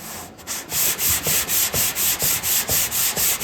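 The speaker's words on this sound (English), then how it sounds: "The sandpaper kind of wears out fast and you use it on a bunch of filler" A sanding block works over body filler on a C10 truck tailgate in a steady back-and-forth rhythm of about a dozen rasping strokes, close and loud.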